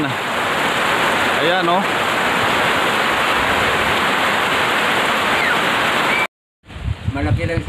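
Heavy rain pours down in a steady, loud broadband roar at a lechon roasting, dense and continuous, with voices talking over it before cutting out briefly near the end.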